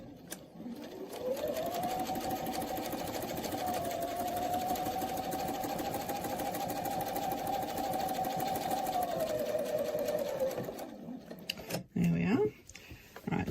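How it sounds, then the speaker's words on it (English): A sewing machine stitches a quilt seam, a steady close mechanical whir holding for about ten seconds before stopping, followed by brief handling noises. "I'm just going to stitch down the one side back to the center point."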